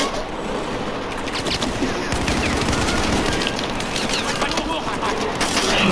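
Battlefield 4 gunfire: rapid, continuous automatic bursts crackling throughout, with dense overlapping shots and a voice speaking over the din.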